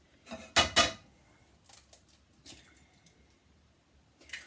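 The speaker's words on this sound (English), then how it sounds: "3 medium-sized eggs, and I'm going to pop those into my dish, along with a bit of shell, of course." Three medium eggs cracked into a dish with bits of shell, a pair of sharp close cracks followed by softer clicks and a faint later tap, quiet between.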